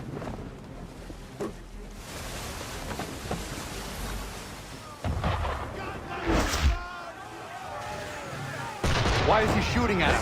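Gunfire aimed at a ship in Assassin's Creed, sharp cracking shots and booms over wind and water, with voices talking between the bursts.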